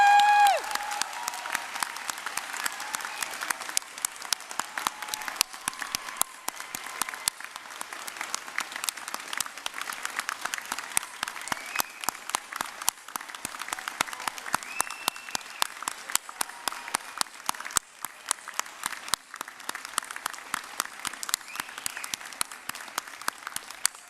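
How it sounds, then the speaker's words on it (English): Sustained applause from an audience at a Carnegie Institute graduation ceremony honoring the graduates, dense clapping from many hands filling the hall at a steady level throughout. "Let's give a big round of applause to all of our graduates"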